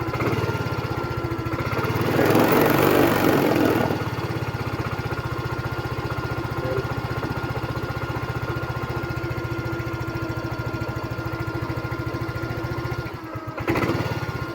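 A Yamaha Mio i 125 scooter idling close by with a steady mid-pitched putter, rising briefly in a rev before settling back to a constant idle; the engine has a check engine fault and a charging problem.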